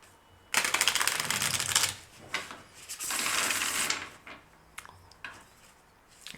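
Tarot cards riffled and shuffled by hand in a quiet room, giving two long bursts of dense rapid clicking followed by a few shorter flicks and taps, close and alone.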